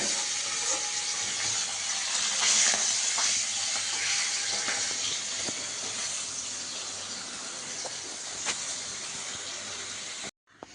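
Hilsa fish frying in oil, a steady broad sizzling hiss that holds evenly for about ten seconds before cutting off abruptly near the end.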